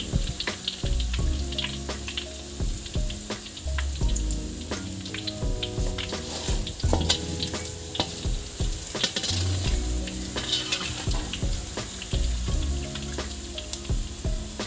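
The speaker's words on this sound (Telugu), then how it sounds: "కాయలు వేగిపోయినాయి ఇట్లయితే తీసుకుంటాం ఇట్లా వేగితే సరిపోతుంది" Small broad beans (chikkudu) fry in a pan, giving a steady close sizzle with occasional crackles and the scrape of stirring throughout, no talking.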